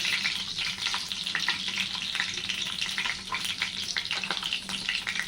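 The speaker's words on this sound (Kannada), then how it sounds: "ನಾನು ಎಣ್ಣೆ ಕಾಯಕ್ಕೆ ಇಟ್ಕೊಂಡಿದ್ದೀನಿ ಇವಾಗ ಚಕ್ಕೆ ಮತ್ತು ಲವಂಗ ಹಾಕ್ಕೊತೀನಿ ಮತ್ತು ಅದಕ್ಕೆ ಬೆಳ್ಳುಳ್ಳಿ" Cinnamon, cloves and garlic frying in hot oil for a chicken biryani masala, giving a steady, close crackling sizzle with brief spits and pops throughout, and no voices.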